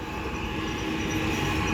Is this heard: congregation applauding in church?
no